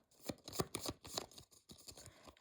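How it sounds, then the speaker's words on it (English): Tarot cards being shuffled up close, a series of soft riffling and slapping bursts in an uneven rhythm, quiet and alone. "how about I shuffle them"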